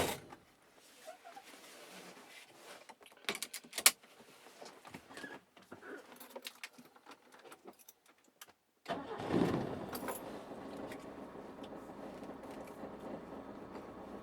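A 1975 BMW 2002 engine cranks and catches, then the car pulls away, the engine note rising and settling into a steady, fairly close drone with a few clicks and knocks along the way; no one speaks.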